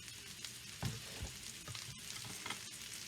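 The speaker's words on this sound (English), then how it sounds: "Now I am going to add my mushrooms that I've sliced up." Sliced mushrooms go into a pan of meat fat from hamburger patties, sizzling and frying as a utensil stirs and knocks against the pan, with a few sharper clunks; no talking.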